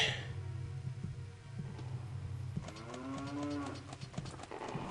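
A cow switch in a video game moos once when shot, a drawn-out low call midway through, over a steady low electronic hum.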